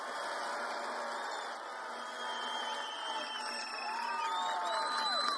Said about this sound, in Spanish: Un fuerte aplauso para Gustavo Petro Urrego, presidente de Colombia